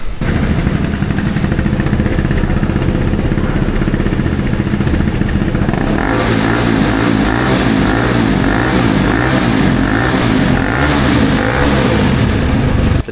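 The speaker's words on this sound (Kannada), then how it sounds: "ಈಗ ಡಿ ಬಿ ಕಿಲ್ಲರ್ ಹಾಕಿ ಸೌಂಡ್ ಎಷ್ಟೈತೆ ನೋಡೋಣ ಅಂತ" Motorcycle with a dB killer fitted in its exhaust, revved loud and close, a rough continuous engine roar that turns into rhythmic rising and falling revs partway through.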